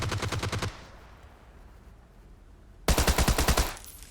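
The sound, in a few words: gunfire in a battle royale video game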